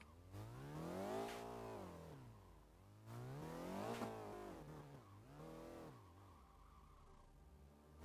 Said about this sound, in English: you guys can hear like there is sounds, the rev of the engine and all that